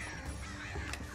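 Crows caw in the Alan Wake video game over a thick, steady background ambience, a short burst of cawing mixed into the game's atmosphere.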